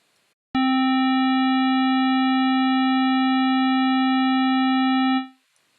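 A synthesized square wave built from 16 harmonic components sounds as one steady, loud buzzing tone, starting abruptly and holding for about five seconds before a short fade.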